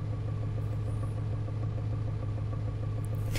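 Idling Audi 80 B2 engine in the City Car Driving video game, a steady low rumble with a faint rhythmic knock running evenly throughout, close and continuous with no voices.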